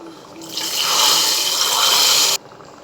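Spice paste tipped into a pot of boiling Kerala-style sambar gives a loud, steady rushing hiss that lasts about two seconds, then cuts off abruptly, with no talking.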